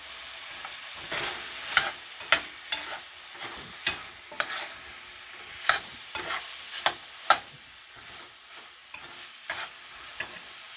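Butter chicken with garam masala sizzles softly in a pan while a spoon scrapes and stirs it, giving repeated sharp clinks at irregular intervals over a steady low frying hiss.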